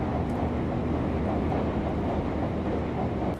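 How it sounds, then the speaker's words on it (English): A Japanese regular passenger train running near its top speed of about 155 to 158 km/h, heard from inside as a loud, steady broadband rumble and rush that continues without a break. "Now this train is chilling near max speed, around 155 to 158 kilometers per hour."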